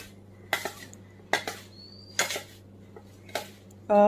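A spoon mixing sugar into karanji filling in a metal pan, several distinct scraping clinks of utensil against pan separated by quiet gaps, ending in a louder clatter.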